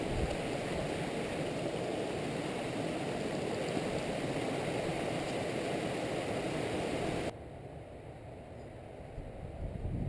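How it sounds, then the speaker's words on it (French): A small mountain stream, the Montfila, rushes steadily in a dense, continuous wash of water noise with no voices. The flow drops noticeably quieter for the last few seconds. "belle petite rivière, ruisseau plutôt."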